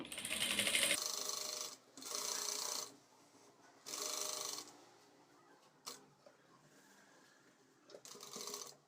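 A sewing machine stitching a blouse near the canvas lining, running in about four loud, fast whirring bursts separated by quiet pauses and a couple of mechanical clicks.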